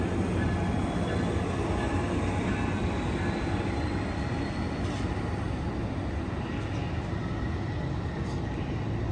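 Amtrak Capitol Corridor train led by an SC44 Siemens Charger locomotive passing Emeryville Station, heard from a high overpass as a steady, dense rumble and roar of wheels and engine that holds at a constant level throughout.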